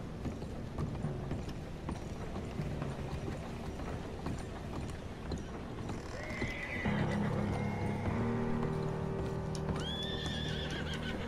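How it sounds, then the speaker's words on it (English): Horses in the video game Red Dead Redemption 2 neigh and whinny over steady clip-clopping hooves, with loud rising whinnies toward the end. "The horses are making too loud of a ruckus for that to be normal."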